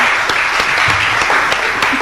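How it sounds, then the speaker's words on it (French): Audience applause after a mention of Father Damien at a talk about Christelle Vuanga, a dense, steady crowd clapping close up that runs evenly throughout without voices. "On applaudit quand même."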